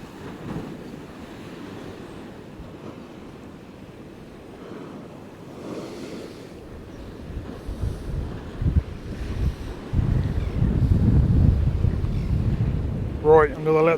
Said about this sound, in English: I hope you can hear what I'm saying over the top of these crazy winds.